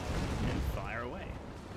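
A tank cannon fires in a video game, a single heavy, booming blast that rumbles low and then fades into the engine and battlefield noise, with someone talking briefly.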